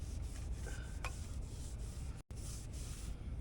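A welded Jeep Cherokee body panel is wiped down by hand, producing a steady close rubbing hiss with faint repeated strokes and a brief gap near the end.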